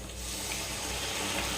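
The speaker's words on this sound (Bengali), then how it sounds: "এবার জল দিয়ে দেব" Water poured into a pan of chicken cooked down in spices, a steady close rush of liquid mixed with sizzling, continuous and fairly loud throughout.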